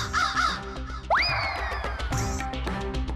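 A crow's harsh caw rings out as a comic sound effect in a Hindi TV drama scene, a single bright cry laid over steady background music.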